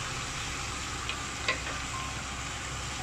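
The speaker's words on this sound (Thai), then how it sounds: "แล้วก็ผัดคนส่วนผสมทั้งหมดให้เข้ากัน" Pork leg and seasonings are stir-fried in a pan, giving a soft, steady sizzle with a couple of faint scrapes and clinks from the stirring.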